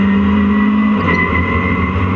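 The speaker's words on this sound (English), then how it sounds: "the Porsche 968, the front engine Porsche" A Porsche 968 front-engined race car at Donington Park gives a loud, steady engine drone that shifts pitch partway through as it runs close by.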